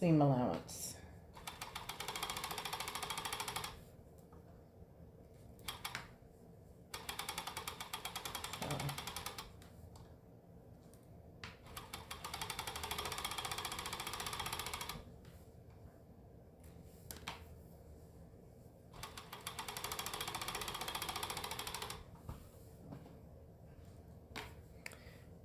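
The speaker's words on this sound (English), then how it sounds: "I'm using my serger, and I am still stitching at 5/8 of a seam allowance." A serger stitches the seams of a Vogue 1929 top at a 5/8 inch seam allowance, running in several steady mechanical bursts of a few seconds each with short pauses between them.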